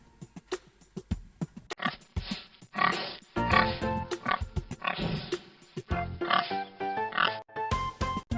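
Repeated pig oinks and grunts, some snorting, fill the clip in a busy series, fairly close, with brief pauses between bursts.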